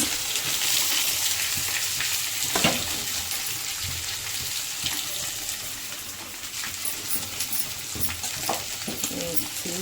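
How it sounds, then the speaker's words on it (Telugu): Chopped onions going into hot oil with mustard seeds, cumin and curry leaves give a steady, broad sizzle that runs throughout, with occasional crackles and faint voice in the background. "ఆవాలు వేసాను, జీలకర్ర వేసాను, కరివేపాకు వేసాను, ఆనియన్స్ వేస్తున్నాను."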